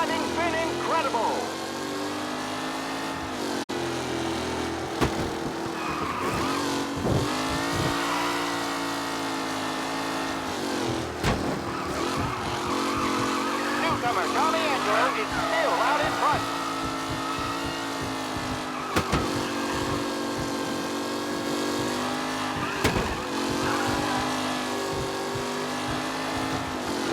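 Race cars in the Mafia Definitive Edition game hum and whine continuously, their engine pitch rising and falling as they drive. A voice talks over the engines for much of the time.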